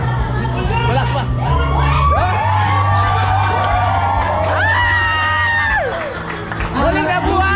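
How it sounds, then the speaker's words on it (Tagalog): A crowd at a reunion shouts and cheers loudly and continuously, with whoops and excited voices close by and some clapping and chatter mixed in, lasting throughout. "Bakit po may sigawan?"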